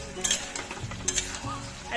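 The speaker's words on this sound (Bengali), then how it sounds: "এদিকে মাংসটা কষানো হচ্ছে এখন।" Chunks of meat sizzle and sputter as they are sautéed and stirred in hot mustard oil, a steady close frying hiss broken by brief utensil scrapes and clinks against the pan.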